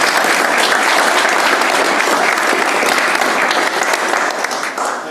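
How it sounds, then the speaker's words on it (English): Loud, dense audience applause for two panelists at the close of a district heating discussion event in Galway, continuous and even before easing slightly at the end. "can we have a last round of applause for our two panelists today?"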